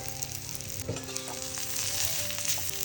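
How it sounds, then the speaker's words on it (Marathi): Onion sautés on a wood-fired stove with turmeric, garam masala, coriander powder and homemade red chili powder, giving a soft, continuous sizzle broken by light stirring and scraping sounds. "आता इकडे आपला मस्त कांदा परतून झाला त्याच्यामध्ये हळद गरम मसाला थोडीशी धना पावडर आणि आपल्या घरगुती लाल तिखट"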